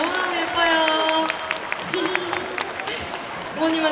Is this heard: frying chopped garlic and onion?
no